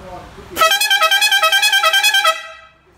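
A car horn wired through a relay blares loudly and steadily for about two seconds with a slight pulsing buzz, then cuts off, leaving a short fading tail.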